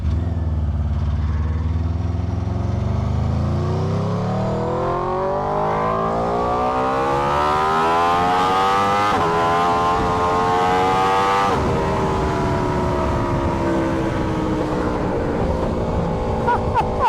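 Loud engine revving up steadily through an SC GP22 exhaust, pitch climbing over many seconds into a roaring exhaust drone, no talking.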